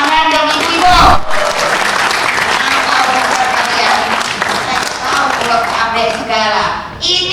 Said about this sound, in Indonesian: Tuh, tepuk tangan dong ibu-ibu.